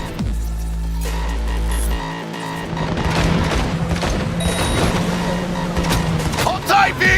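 Gunfire in Cyberpunk 2077 during a car chase: a dense, continuous clatter of shots and impacts over a droning vehicle rumble, loud and sustained, with a deep low throb in the opening seconds.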